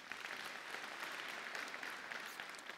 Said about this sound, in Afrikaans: Ons geef vir Jacques een lekker hande klap